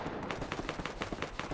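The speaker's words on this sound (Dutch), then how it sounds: "Fuck, ik word geschoten." A steady run of rapid gunshots, loud and evenly spaced like automatic fire, continues throughout with no talk over it.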